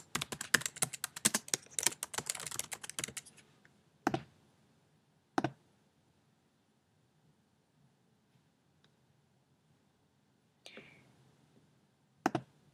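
Fast, dense typing on a computer keyboard fills the first few seconds, followed by a few isolated clicks spread out across a quiet stretch, close and moderately loud with no talking.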